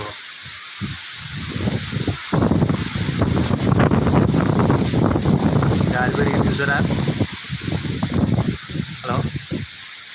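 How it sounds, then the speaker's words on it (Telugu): Strong wind blows hard across an open microphone on a Konaseema waterside in the late afternoon, a constant loud rushing roar that swells and gusts throughout, with a person talking over it. "మధ్యాహ్నం మూడున్నర నుంచి గాలి విపరీతంగా పెరిగిపోయింది ట్రిపుల్ కింద గట్టిగా గాలి వేస్తుంది"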